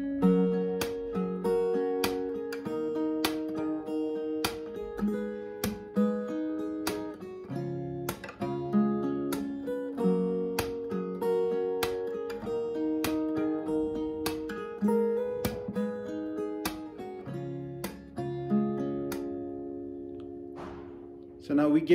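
Fingerstyle acoustic guitar plays a Hindi song, with plucked melody notes over a bass line in a steady, flowing rhythm, close and clear with no talking.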